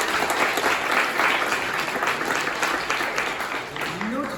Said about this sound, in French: Je vous propose également de vous applaudir parce que c'est un plaisir de vous recevoir.